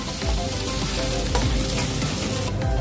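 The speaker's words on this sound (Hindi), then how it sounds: "और अभी इन प्याज को भी 5 से 10 मिनट और सेक रहे हैं" Onions and green chillies fry in a pan for a spicy homemade chaap, a steady close sizzle with occasional stirring scrapes and no voices.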